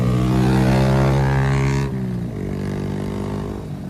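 A Yamaha R15 motorcycle passes close on a rainy-season road near Bhandardara, its loud engine roar dropping in pitch as it goes by, then fading into the steady hum of the rider's own bike.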